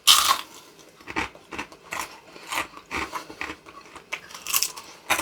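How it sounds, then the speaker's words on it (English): Crunchy bites and chewing on a gluten-free fried onion ring, close and loud, in a rapid series of crisp crackles with no talk. "Now I'll try the taste test. Crunchy."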